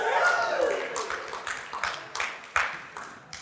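A church congregation gives scattered, moderately close clapping and light cheering in a series of separate bursts, with voices murmuring underneath.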